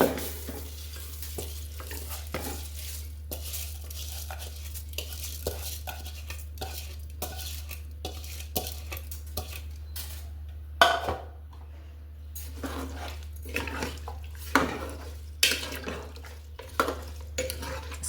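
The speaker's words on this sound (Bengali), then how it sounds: "এবার আমি চালটা ধোয়া চালটা আমি দিয়ে দিচ্ছি" Washed rice goes into a pressure cooker of cooked mutton for mutton biryani and is stirred: repeated scraping and clinking of a utensil against the pot over a low sizzle and steady background hum, close and without talk.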